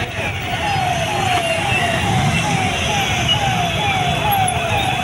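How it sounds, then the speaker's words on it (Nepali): An ambulance siren wails in a Kathmandu traffic jam, its repeating rising and falling sweeps carrying steadily over the low rumble of idling traffic for the whole stretch. "एम्बुलेन्सको गाडी पनि आइरहेको छ।"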